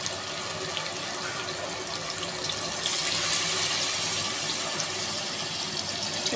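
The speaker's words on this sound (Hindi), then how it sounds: "अब हम इसमें पानी शामिल कर देंगे।" About two glasses of water pour steadily into a pot of cooking chana dal and chicken, a continuous splashing gush that grows slightly louder partway through, with no talk.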